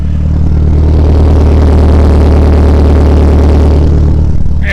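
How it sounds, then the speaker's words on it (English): A DSM car's exhaust note heard from behind the vehicle, a loud, steady low drone with a rumbling engine tone that holds constant throughout, with no talking. "I'm sure you can probably catch a exhaust note from back here"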